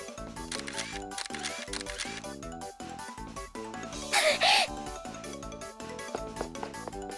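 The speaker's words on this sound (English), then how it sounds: "the gleeful sound of the camera shutter" A camera shutter clicks in a visual novel game, a short bright snap heard once midway over steady background music.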